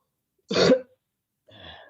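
One short, forceful cough up close, followed by a quieter, rougher throaty sound a moment later, with silence around them.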